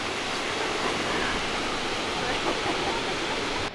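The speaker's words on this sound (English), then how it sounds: "It's a massive waterfall" Skógafoss, a large waterfall in South Iceland, roars in a steady, dense rush of falling water, loud and close, with no breaks.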